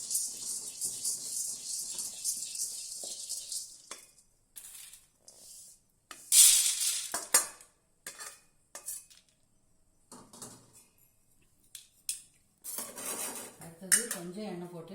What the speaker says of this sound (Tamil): வெறும் வானல்ல பொட்டுக்கடலை, மிளகு வறுக்கணும்.